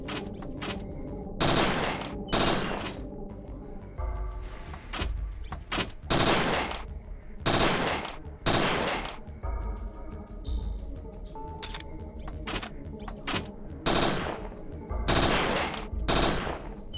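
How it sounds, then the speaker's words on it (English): Rapid bursts of gunfire from the video game Parasite Eve II, loud repeated volleys with short pauses between them, running steadily with no talking. "I'm shooting the other way. Why am I shooting the other way?"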